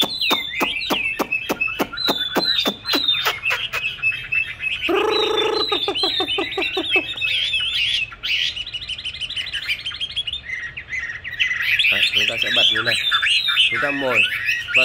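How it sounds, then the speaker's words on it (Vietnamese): A recorded song of a Chinese hwamei plays loudly and continuously, played to train a caged bird: rapid repeated chirps, whistled trills and squawky phrases in varied bursts, with a bird's rattling call mixed in. "cái luyện hót thì chúng ta sẽ bật cái file họa mi hót lên"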